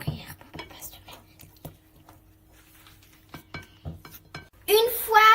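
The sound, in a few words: spoon stirring chocolate mousse mixture in bowl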